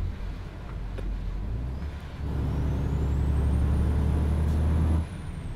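A truck's air brakes hiss in Euro Truck Simulator 2, a steady loud rumbling engine drone that swells midway and then cuts off sharply near the end, with no voices.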